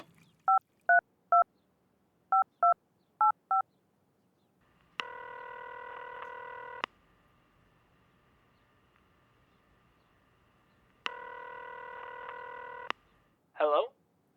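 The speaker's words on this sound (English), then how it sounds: "He picked up the phone and dialed a number as he sipped his coffee." A telephone number being dialed on a kitchen phone, a quick run of touch-tone beeps in small groups, then two long ringback tones with a pause between them and a voice just starting at the end.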